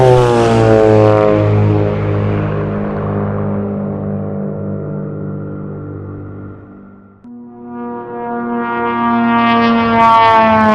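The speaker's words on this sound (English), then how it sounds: "From the side especially, you will hear the prop buzzing loudly as it flies by you." Propeller buzz from a Black Square Duke twin in a flight simulator passes by, loud and droning, with its pitch dropping as it goes and then rising again as the engine tone swells.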